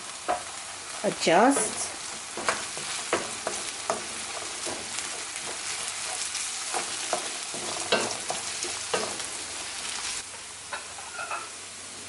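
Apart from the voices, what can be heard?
chili peppers frying in a pan for samosa filling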